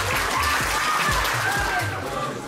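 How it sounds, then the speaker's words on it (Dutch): A crowd claps and cheers at the end of the final round of a charity boxing match. The applause is a constant wash of noise, with a loud amplified voice sounding over it. "Applaus voor deze kanjers"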